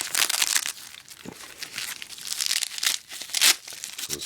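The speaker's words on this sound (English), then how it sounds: "Let's see if I get this open here. Nice, easy to open, resealable bag." Plastic packaging bag crinkling and tearing open during an unboxing of tactical helmet gear, a close, busy run of crackling rustles and rips with no talking.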